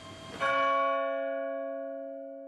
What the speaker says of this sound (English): It was a big bell, a very, very big bell.